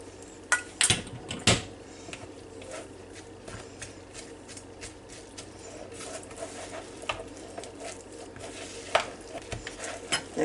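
A spoon stirs tuna salad with chopped onions in a bowl, making soft scraping and light clinks, a few sharper knocks early on, quiet and close.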